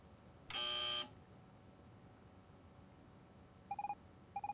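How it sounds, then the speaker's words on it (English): A training buzzer from the game Evoland sounds once as a long, loud, harmonically rich tone, followed later by two quick bursts of short, mid-pitched beeps over faint background. "When you hear the buzzer, move to the right."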